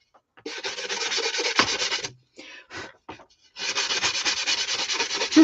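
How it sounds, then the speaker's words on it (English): A hand-held sanding board rubbed back and forth over a surface in long, steady scraping strokes, close and fairly loud, with a short pause and a few brief strokes before another sustained pass. "Of course, my handy dandy little sanding board."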